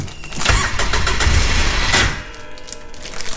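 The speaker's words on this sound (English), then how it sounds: "We hear the fuel pump prime." A Polaris Ranger side-by-side with new wiring makes a loud, close mechanical whir and rumble for about two seconds as its fuel pump primes, then drops to a quieter hum.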